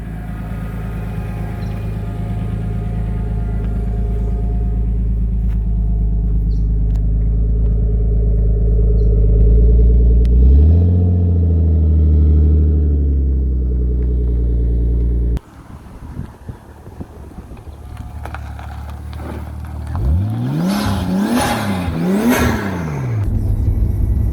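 Nissan Skyline R33 with an RB25DET engine pulling hard up a road: a loud, steadily rising engine drone, then a sharp drop before several swooping rev climbs and falls near the end.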